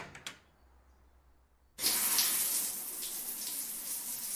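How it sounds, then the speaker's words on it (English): A shower switched on: after a couple of faint clicks and a brief quiet pause, water bursts into a steady, loud hiss of spray that keeps running close by with no one talking. "First things first, time to take a shower."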